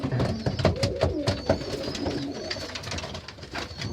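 Tippler pigeons coo in a soft, repeated rhythm close by, their calls overlapping with faint flutters and no voices.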